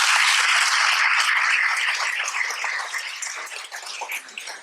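A room full of students applauding at a success celebration, a dense, steady wash of clapping that holds loud for a few seconds and then gradually thins and fades.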